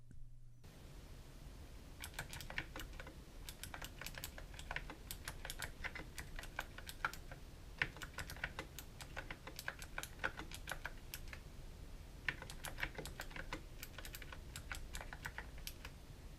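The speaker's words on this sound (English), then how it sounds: "that was a little typing test with my awful typing" Bursts of rapid keystrokes on a GH60 60% mechanical keyboard, close and fairly quiet, with short pauses between runs of clicking.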